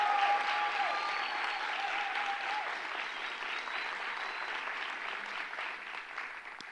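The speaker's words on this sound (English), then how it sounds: "Please join me in thanking these partners with a thunderous round of applause." Sustained applause fills a hall at a Little Rock school district State of the District address, a dense, even wash of clapping from a large audience that tapers slightly over several seconds.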